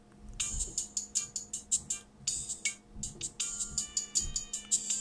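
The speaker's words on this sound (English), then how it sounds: "Use the ringtone that you made." A custom ringtone plays on a Sony Ericsson V600i phone, a quick series of bright, rhythmic electronic tones repeating in phrases, fairly close and clear over faint background hum.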